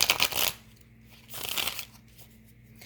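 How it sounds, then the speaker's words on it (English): Tarot cards are shuffled by hand in two short, crisp bursts of riffling and snapping, close and fairly quiet, with a brief lull between them. "let me keep shuffling"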